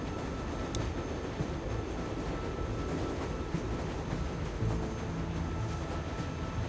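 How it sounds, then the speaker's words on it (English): A train rumbles steadily along the tracks in The Walking Dead video game, a dense continuous roar with faint metallic rattles and a brief squeal near the start, no talking. "We need to stop this train."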